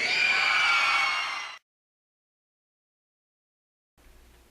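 A crowd at a wrestling event screams loudly for about a second and a half, then sudden silence follows, with faint room noise returning at the end.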